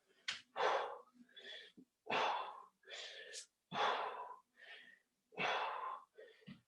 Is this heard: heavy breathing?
yes